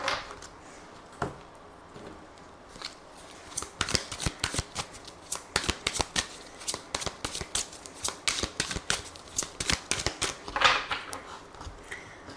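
Tarot cards being shuffled by hand, a run of quick papery riffles and soft slaps that grow busier and louder toward the end, close and with no voices.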